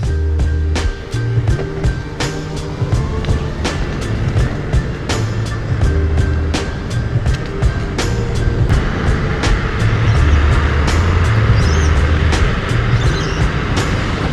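An electric Horizon board accelerates outdoors with a rising motor hum, a rush of wind and regular rhythmic clicks from the wheels passing over joints in the ground. The sound is loud and continuous.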